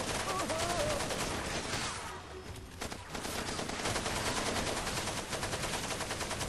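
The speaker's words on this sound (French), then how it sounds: "le son du jeu bug parfois quand je tire avec coup par coup" Gunfire in Far Cry 2 plays with glitched single-shot audio and comes out as a dense, loud, continuous crackle of shots with a brief dip in the middle, while someone talks faintly underneath.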